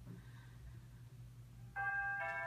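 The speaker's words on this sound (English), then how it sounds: "The doorbell just rang." A doorbell chimes in a quiet room, two clear electronic tones ringing out near the end after a low background hum.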